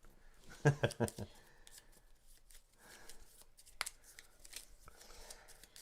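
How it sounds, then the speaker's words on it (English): A deck of playing cards is shuffled at a tabletop game session, giving a burst of quick riffling crackles early on, then scattered softer card handling with light background noise. "So I'll shuffle a little yeah. bit. Just so if Mel's doing any sneaky stuff here with the deck, I'll do some shuffling."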